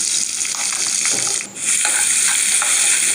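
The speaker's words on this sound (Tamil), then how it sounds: "இப்போ வெங்காயம் வந்து நல்லா ஃப்ரை ஆகணும்." Onions and green chillies frying with fennel seeds in a pan, a bright continuous sizzle with stirring scrapes and a brief dip midway, close and loud with no talking.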